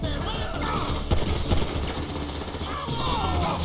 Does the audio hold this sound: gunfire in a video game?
yes